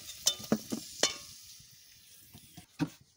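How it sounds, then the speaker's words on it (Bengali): Potatoes sizzle gently, frying lightly in oil in a pan while a utensil scrapes and taps against it in a few sharp, uneven strokes. "আলু আমি ফুল ভাজা করিনি, হালকা করে ভাজা করে নিচ্ছি"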